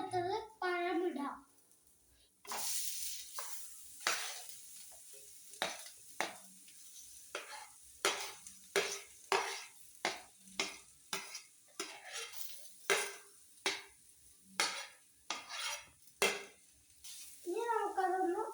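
Sliced banana and grated coconut are stirred in a hot pan, with a spoon scraping in a quick run of distinct strokes over a soft sizzle, and a voice speaks at the start and end.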